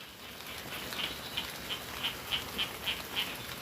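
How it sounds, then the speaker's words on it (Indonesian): Rain falls steadily outdoors, a soft continuous hiss with a run of regular, faint plinking drops standing out over it, and no talk. "Hujan."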